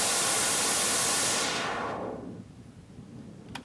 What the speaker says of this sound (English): Just got the white noise riser and the build-ups.